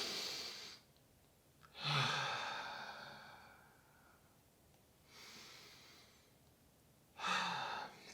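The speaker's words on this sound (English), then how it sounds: "Let's just deeply breathe." Slow, deep breaths, an audible inhale and a long sighing exhale repeated twice with quiet pauses between, close and unhurried, with no talking.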